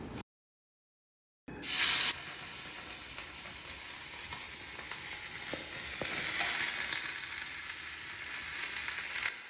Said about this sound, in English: Next, and finally, we're going to record frying the chicken in oil.